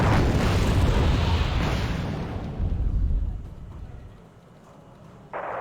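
Rocket strikes hit tanks during a battle in a war video game, a loud rumbling blast that swells and slowly fades over several seconds, with a sharp burst of noise near the end.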